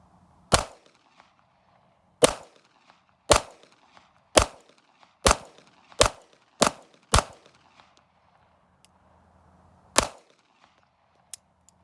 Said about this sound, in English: the last 25 rounds, I think I'm gonna shoot these one-handed